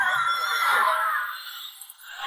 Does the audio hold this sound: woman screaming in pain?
yes